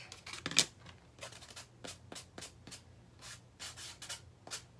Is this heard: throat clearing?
no